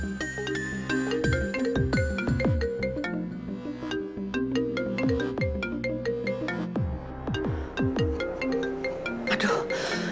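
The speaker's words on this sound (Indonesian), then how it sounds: "Pak Raymond telepon aku" A phone rings with a melodic ringtone, playing a repeating pattern of bright plucked notes steadily throughout and sounding loud and close.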